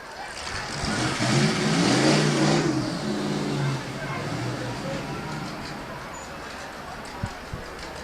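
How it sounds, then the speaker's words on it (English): Pickup trucks in a demolition derby rev with a broad, rough engine roar that swells and fades, heard from a distance with crowd noise, a voice over it and a couple of sharp knocks near the end. "neither pickup truck has an ability to steer their vehicles"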